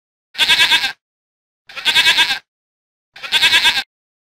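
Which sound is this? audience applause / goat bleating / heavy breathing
goat bleating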